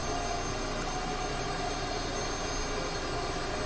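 Steady, loud jet whine and roar from a Cessna T-37B Tweet military trainer in Microsoft Flight Simulator, cruising on a coastal run with a constant high-pitched drone and no talking.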